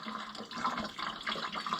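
Radiator fluid from an Oliver 1655 tractor engine drains in a steady trickling stream, splashing into a bucket close by and alone.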